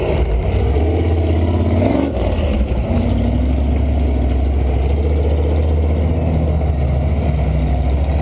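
A big Ranger off-road vehicle churns out through mud at a beer-and-mud gathering, its engine droning loud and steady with a brief rev near the start, close by and continuous.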